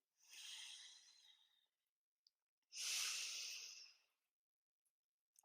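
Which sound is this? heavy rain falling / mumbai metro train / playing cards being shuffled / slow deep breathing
slow deep breathing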